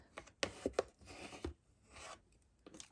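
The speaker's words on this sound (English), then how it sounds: "let's burnish, burnish, burnish." Paper being burnished along a crease while crafting a Memorydex box, quiet scraping rubs in short uneven strokes with a few sharp taps, close up and faint.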